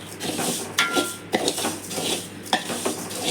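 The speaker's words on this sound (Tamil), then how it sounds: "சீரகத்தை நல்லா வறுத்துக்கணும்" Cumin seeds dry-roasting in a pan, with close, steady scraping and light clinking as a utensil stirs them, a few sharper knocks standing out and no voices.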